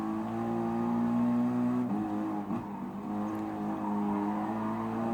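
Race car engine in Gran Turismo Sport on the Nürburgring circuit, a steady loud droning tone with shifting pitch as the car is chased and driven through corners, continuous throughout without talk.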